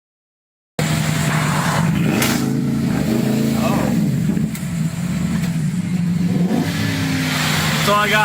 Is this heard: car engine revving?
yes